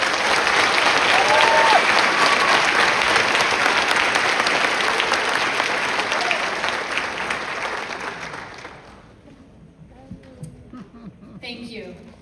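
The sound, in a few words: applause at graduation ceremony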